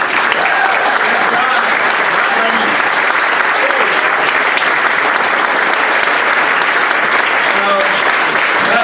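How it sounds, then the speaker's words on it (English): A roomful of people at a Rotary club meeting claps loudly and continuously, a dense, even wash of applause that holds steady throughout. "I'd like the entire room to start clapping"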